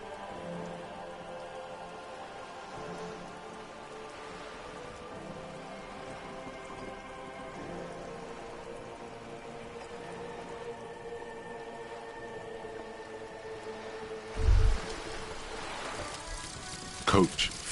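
Steady rain patters through a scene in the video game Disco Elysium, a soft continuous hiss with faint ambient music tones running under it and a couple of brief louder knocks near the end.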